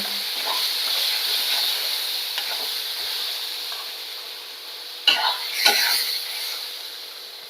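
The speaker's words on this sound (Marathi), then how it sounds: "तेच मसाले आपण याच्यात टाकून घेऊयात आणि एक दोन ते तीन मिनटं परतून घेऊयात तेल सुटेपर्यंत" Ground spices for a Konkan-style fresh cashew curry fry in oil while being stirred. A continuous close hiss and sizzle runs throughout, with faint stirring scrapes and two louder spoon clatters near the end.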